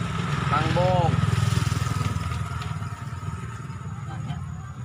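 A lowered (ceper) motorcycle engine idling nearby with a steady low rumble and throttle blips, while someone talks over it.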